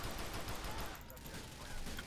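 Rapid pistol fire from GTA IV: The Lost and Damned, a dense burst of sharp shots in quick succession over a couple of seconds, loud and close, with a brief lull midway.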